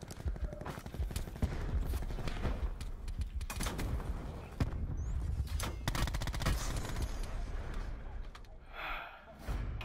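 Call of Duty: Warzone gunfire in dense, chaotic bursts of rapid automatic shots, loud and nearly continuous, with brief gasping breaths mixed in and a short lull near the end.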